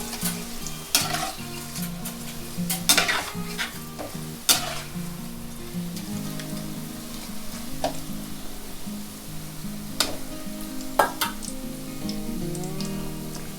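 Cabbage pakoda frying in hot oil on a low flame, a continuous close sizzle and crackle with irregular sharp pops and occasional clinks of a utensil stirring, no voices.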